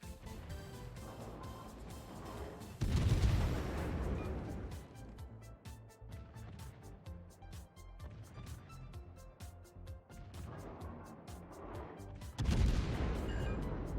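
Heavy naval gunfire from the Roon, a Tier IX German cruiser in World of Warships: two deep booming salvos several seconds apart, each with a loud low blast and long rumbling tail over engine and music-like background.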